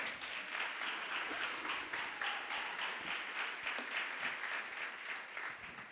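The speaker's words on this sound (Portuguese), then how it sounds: "você pode aplaudir o Senhor?" A church congregation breaks into sustained, dense applause during a Portuguese-language sermon, the clapping steady and moderately loud throughout with no voices on top.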